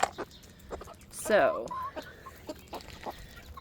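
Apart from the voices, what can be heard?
backyard chickens clucking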